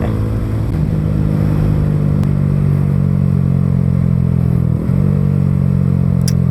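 Honda CBR150R 2024 motorcycle fitted with a 14-inch Akrapovic exhaust, riding at a steady cruise with a continuous droning engine note and one brief dip in revs, loud and close throughout.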